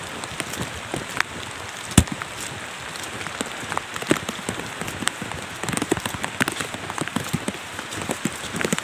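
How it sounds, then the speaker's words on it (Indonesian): Steady heavy rain pounding an oil palm plantation, dense patter with occasional louder drops, continuous throughout with no voices. "hujannya nggak berhenti nih, hujannya lebat"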